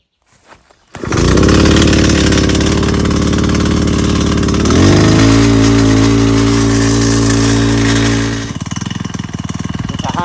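A portable winch's small gas engine starts, then runs loudly near by, its pitch stepping down midway and dropping again toward the end as it idles low.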